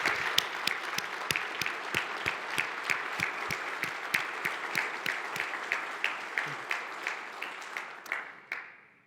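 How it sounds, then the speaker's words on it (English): An audience at a manufacturing industry presentation gives a steady round of applause, with crisp, evenly spaced claps that keep a near-regular rhythm for about nine seconds before tapering off at the end. "Let's take a second to give them a well-deserved round of applause."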